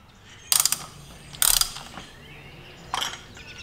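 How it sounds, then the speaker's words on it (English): A standard 3/8 ratchet fitted with an oil filter wrench clicks as it removes the oil filter on a Ford Edge, three short close ratcheting bursts separated by brief pauses. "you can use a standard 3/8 ratchet to remove it"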